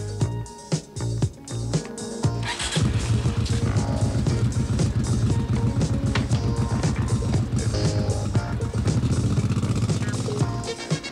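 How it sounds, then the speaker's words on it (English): A 1983 Honda 750 Shadow motorcycle starts with a few sharp clicks and blips, then pulls away with a loud, steady, throbbing V-twin engine drone that holds close and strong to the end. "The 750 Shadow from Honda."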